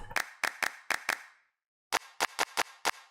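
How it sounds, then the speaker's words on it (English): Amapiano sample-pack claps, crisp and loud, sounding in a run of five sharp hits, a brief pause, then five more with short reverb tails. "let's check the claps."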